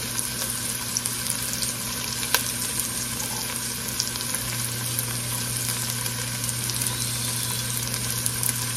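Four cloves of garlic sautéing in a pan for braised beef shanks and cabbage, a steady close sizzle and fry with light stirring, one sharp clink of a utensil partway through, and no talking.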